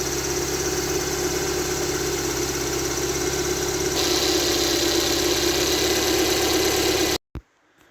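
A 1992 Honda Prelude SiR VTEC engine running, a steady close mechanical hum that holds for about seven seconds before cutting off abruptly, followed by a short thump.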